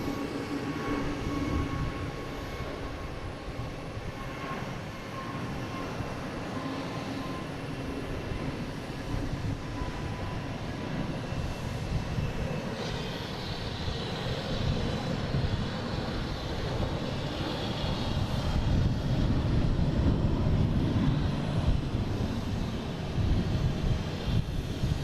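An Airbus A321neo departs for Lisbon, its jet engines a broad, continuous roar that builds gradually and peaks strongly toward the end, with no talk over it.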